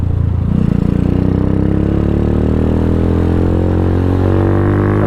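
A Venom X22R motorcycle idles nearby, a loud steady engine chug with a rhythmic low-pitched beat and a slight rise in pitch as it settles, mechanical clatter beneath and no talking.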